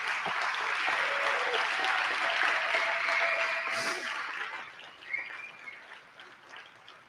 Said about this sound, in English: So a round of applause for the Ashland Film Festival.